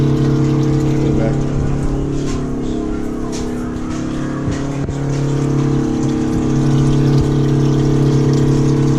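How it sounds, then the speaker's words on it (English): Water pumped through a DIY budget air-to-water intercooler gives a steady, close mechanical hum with a constant low drone throughout, and faint background sounds come and go. "Water is flowing through our intercooler."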